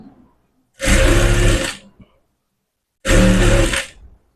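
A sewing machine stitches a blouse in two separate bursts of about a second each, loud and close, with silence between runs.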